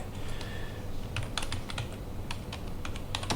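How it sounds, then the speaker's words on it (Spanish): A password is typed on a computer keyboard. Quick, light key clicks come in small irregular bursts with short pauses between them, close and fairly quiet against a faint room hum. "Digito mi contraseña"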